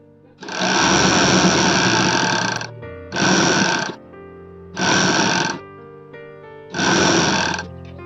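A sewing machine stitches the side seam of a triangle-neck nightie in four loud bursts, the first long and the rest shorter, with quiet pauses between runs.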